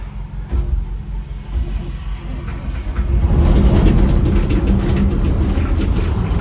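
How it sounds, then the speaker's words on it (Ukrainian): A John Deere combine engine cold starts: a low rumble churns for a few seconds, then swells into a louder, steady, close running roar. "Я не думав, що він так заведеться. Це я вам кажу точно, що це холодний запуск."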